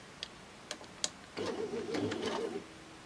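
A Baby Lock Sashiko sewing machine runs slowly through a single stitch, a few soft clicks followed by a short, close mechanical whirring hum, with no voices.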